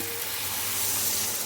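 Masala for chickpea ghugni sizzles as it sautes in a pan, a short, steady, close hiss at even loudness, with no voices or distinct stirring strokes.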